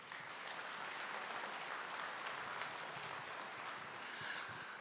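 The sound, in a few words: audience applause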